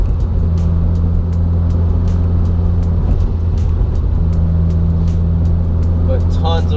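Turbocharged Toyota MR2 with an updated tune and turbo noses accelerates hard with wheel spin, the engine drone loud and close, pitch shifting mid-run as it changes gear, with clicking noises over the top.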